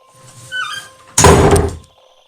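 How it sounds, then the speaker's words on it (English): A front door in a horror story sound effect, a creak or rub building before a loud, close slam that booms and rattles for under a second, then fades into quiet. "the front door slammed shut on its own"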